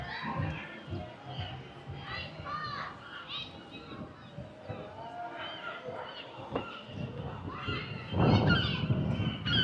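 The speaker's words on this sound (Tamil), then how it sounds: "பறவையுடைய சத்தம் கடுமையாக இருக்குது." Loud birds call over a busy crowd at the Pier 39 waterfront in San Francisco, harsh honking and squawking calls breaking through constant chatter and voices nearby.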